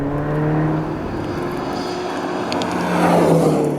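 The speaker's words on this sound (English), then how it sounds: "the scarlet red Ferrari scything through the desert landscape looks absolutely surreal" A scarlet red Ferrari Portofino convertible drives through the desert landscape near Jaisalmer, Rajasthan, its engine giving a steady, moderately loud drone that rises slightly near the end, with no voices.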